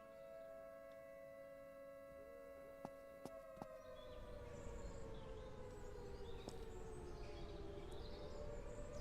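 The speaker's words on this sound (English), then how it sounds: "Can you hear that air raid siren?" An air raid siren wails in the game Surroundead, a long sustained tone with harmonics that slowly dips in pitch, heard at a distance over crickets and faint ambient noise.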